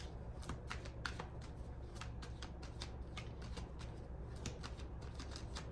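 Tarot cards being shuffled by hand in a rapid series of crisp riffling and snapping bursts, steady and close, with no talking.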